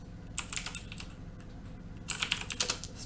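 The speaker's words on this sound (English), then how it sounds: "I'm going to type in password" Someone types a password on a computer keyboard, two bursts of close, quick clicking keystrokes separated by a short pause, with no talk.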